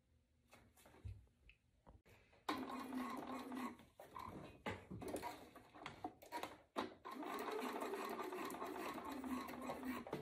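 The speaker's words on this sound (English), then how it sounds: "Just sew an X and a couple of straight lines on this to secure it." A sewing machine stitches a corset, starting with a few short bursts and quiet handling, then running in longer steady buzzing runs with brief pauses; close and clear, with no talking.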